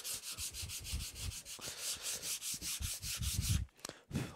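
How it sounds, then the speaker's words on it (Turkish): Coarse sandpaper rubbed back and forth over wood, a steady run of close, loud scraping strokes in an even rhythm that stops near the end with a couple of brief knocks. "Kalın zımparayla şurada bunu bir zımparalayayım."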